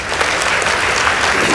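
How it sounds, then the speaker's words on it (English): Audience applause for the Bishop Gatimu Ngandu Girls team at a school debate competition results announcement, a loud, dense, steady wash of clapping from a large crowd that holds level throughout. "Please give them a huge round of applause."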